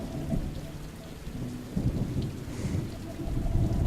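Steady rain pours in the video game Hue, with low rolling thunder rumbling underneath throughout, a dense continuous storm bed without voices.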